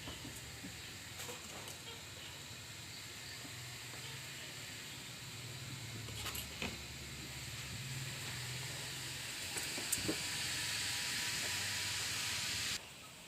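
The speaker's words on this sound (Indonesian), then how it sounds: "dan rebus hingga layu kurang lebih 5 menit." Steady steamy hiss of water at a rolling boil with leaves in the pot, low bubbling underneath and a faint tap or two.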